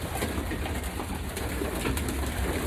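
Racing pigeons coo steadily inside a breeding loft, with a continuous low murmur of several birds calling close by and no talk.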